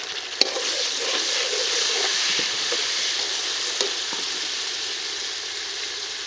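Steady sizzling of chopped tomato frying with browned onions in a pan, with occasional light clicks and stirring scrapes, close and fairly quiet, no talking.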